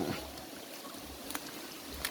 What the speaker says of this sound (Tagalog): Maganda dito sa ilog na to.